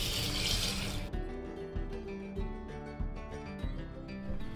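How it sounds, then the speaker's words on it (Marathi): Half a kilo of sago pearls being rinsed by hand in water in a pot, with soft repeated splashing and swishing strokes in a regular rhythm after a brief burst of running water at the start. "साबुदाणा आपल्याला 2 पाण्याने स्वच्छ धुवून घ्यायचा आहे"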